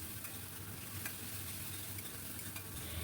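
A paste of onion and green chilies fries in a pan with a soft, continuous sizzle and faint stirring scrapes, quiet and close, with no voices.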